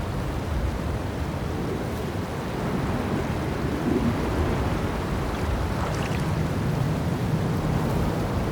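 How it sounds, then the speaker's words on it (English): A waterfall roars in the video game Cairn, a dense, constant broadband rush filling everything evenly from start to finish, loud and unbroken with no voices. "the sound of the waterfall is so intense"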